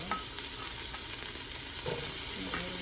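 Onion hits a hot soup pot with a steady sizzling hiss, broken by a few knocks and scrapes of a spoon stirring, close up and continuous for a few seconds.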